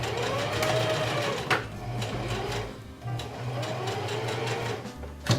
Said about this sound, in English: I've decided to do a zigzag stitch.